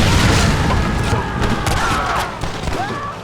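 Heavy booming blasts and crashing rumble from explosions in Red Dead Redemption, loud and dense at first, then tapering off with scattered smaller bangs.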